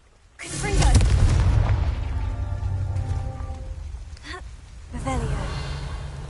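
A Confringo fire spell explodes in a fantasy video game with a sudden loud boom that rolls into a sustained crackling rumble, followed by a second, smaller burst near the end.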